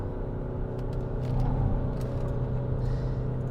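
Opel Grandland X with a 1.6 diesel, 120 hp engine driving on a road near an airport, a steady low interior rumble of engine and tyres running continuously with no talk.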